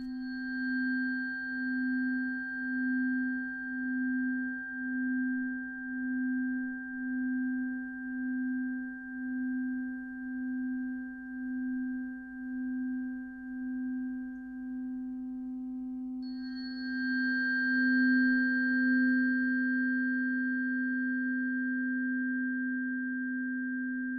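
Several pure sine tones tuned microtonally around 256 Hz sound together as one steady chord, with a slow beating pulse in the low tone and a higher tone entering near the end, sustained and alone.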